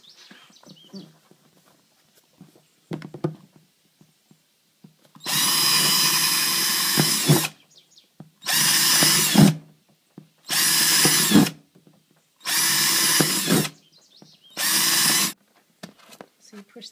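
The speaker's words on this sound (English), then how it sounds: "Okay, now drill the hole." A power drill bores a hole for a holiday light in five separate loud whirring bursts, the first about two seconds long and the rest shorter, each separated by quiet pauses with faint handling clicks.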